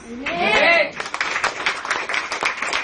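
A church congregation breaks into applause after a voice, with a dense burst of many hands clapping at moderate loudness that goes on for about two seconds.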